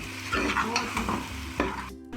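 Pulao masala being stirred into chickpea rice in a pan, with close scraping strokes of the spoon over a soft sizzle, a few brief clinks, and a sudden stop at the end.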